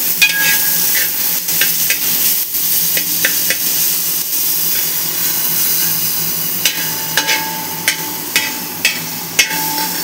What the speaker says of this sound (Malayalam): ഇത് ഞങ്ങളിപ്പം വഴറ്റിയെടുക്കാം. നല്ലതായിട്ട് മിക്സ് ചെയ്യണം.